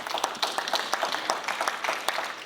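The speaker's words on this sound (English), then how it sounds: "Give them a round of applause, please." Steady applause from a crowd, many hands clapping in a dense, continuous patter at moderate volume, with no one speaking over it.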